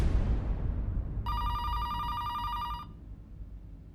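A telephone rings with a bright electronic trill for about a second and a half, over a low background rumble, then stops.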